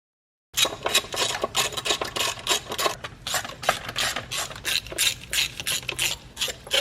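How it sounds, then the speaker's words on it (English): A hand ratchet tightens 11 mm nuts on the oil filter housing of a BMW N54 engine, rapid rhythmic clicking bursts in quick strokes, close and loud, repeated steadily without pause or speech. "Put all the bolts and nuts back on. Once again, these are all 11 millimeter."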